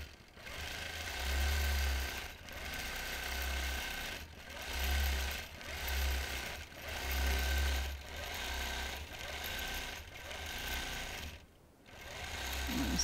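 Sewing machine running in repeated bursts during machine quilting of an oak-leaf pattern, its motor whirring up and easing off in a regular rhythm with brief pauses between passes.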